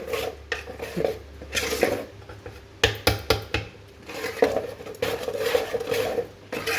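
Dosa batter of mixed lentils being stirred with a ladle in a metal vessel, giving irregular scraping and clinking knocks at close range, with a few sharper taps mid-way and no talking.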